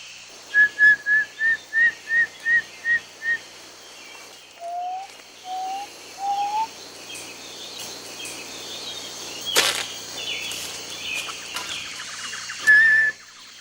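An Arara hunter in the Amazon forest whistles imitations of animal and bird mating calls: a rapid run of eight clear, evenly spaced whistled notes, then three lower sliding whistles, and a final high note, loud and close.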